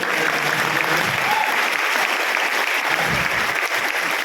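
Steady, dense applause from a large audience at an RCM business gathering, continuous and loud throughout with no pauses.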